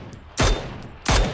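Two separate bursts of gunfire from the PUBG video game crack out, each short and sharp, with a brief pause between them.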